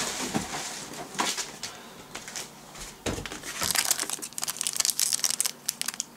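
A Yu-Gi-Oh card pack is cut open with scissors amid loud, close crinkling and crushing of foil wrapper, with snipping and rustling that grows busier toward the end.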